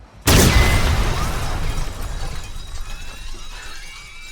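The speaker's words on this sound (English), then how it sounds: "With the explosion" A sudden loud blast bursts in with glass shattering and debris tinkling, then a long rumbling, crackling tail slowly fades, from the film Children of Men.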